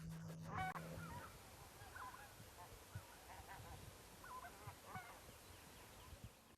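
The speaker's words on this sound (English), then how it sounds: "Watching these flocks of geese flying north in a V formation always brings excitement to a hunter's" Geese honk in flight over the Lena River, a scattered series of faint, distant calls repeating over a soft outdoor background.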